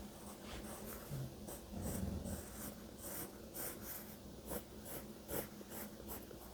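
Pencil shading a feather drawing on paper gives a steady, close, soft scratchy rasp of short strokes, with faint breathing from sleeping dogs in the room underneath.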